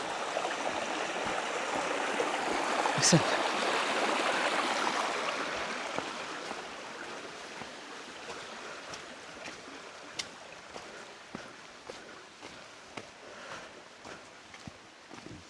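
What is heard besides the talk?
mountain stream water flowing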